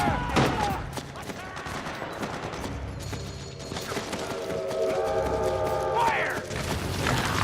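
Gunfire in the video game Metal Gear Solid 4, dense volleys of rapid shots and mechanical clatter running throughout, loud and close, with shouted voices and game tones mixed in.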